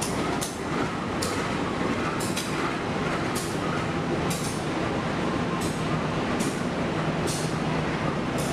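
Continuous rumble and roar of a passing Indonesian passenger train hauled by a diesel locomotive, with regular rhythmic clicks of wheels over rail joints repeating every second or so.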